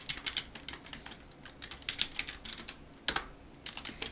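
Fast, light keystrokes on a computer keyboard while HTML code is entered, a continuous irregular patter of close clicks with one sharper clack near the end, no voices.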